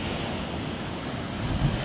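Powerful surf washes and churns over rocks in a continuous broadband rush, loud and close, with wind buffeting the microphone throughout.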